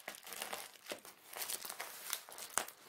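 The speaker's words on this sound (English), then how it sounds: "I already are starting to cut into the bubble wrap." Plastic bubble wrap around art canvases being cut and pulled open during unboxing, giving close, busy crinkling and crackling with a sharp snap near the end.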